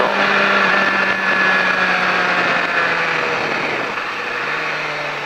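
A motorcycle laps a race track during a rider-school session. The engine drones loud and constant and holds close throughout, easing slightly near the end.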